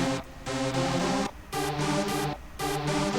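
A single soloed music track from a song in the Roblox Beatmerger game, a loud repeating phrase of sustained tones broken by short gaps, with no talking.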